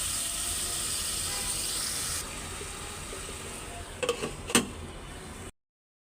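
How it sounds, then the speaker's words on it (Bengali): Radish, potato and eggplant pieces sauté in a pan of cooked-down spices with ginger and garlic, giving a soft, steady sizzle that drops a little partway through. A few sharp stirring clatters come near the end before it cuts to silence. "তো এখানে তরকারিগুলো দিয়ে দিচ্ছি। এটাও ভালো করে কষাবো।"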